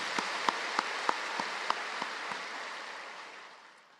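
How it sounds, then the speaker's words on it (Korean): A church congregation claps after a choir's hymn at a special dawn prayer service, heard as a thin, distant patter with a few sharper claps that gradually fade out. "우리 다시 한번 감사의 박수 드리겠습니다"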